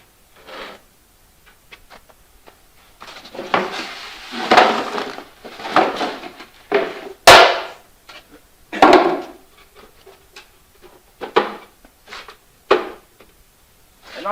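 Wooden beehive deep boxes knocked and set down while being stacked, a series of hollow thuds and clunks, louder hits near the middle and end, with faint movement noise between.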